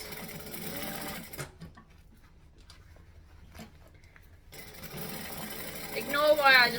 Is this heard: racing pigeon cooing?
no